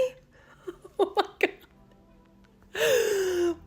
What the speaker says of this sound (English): she just shoved her nose under the door and is like angry snorting at me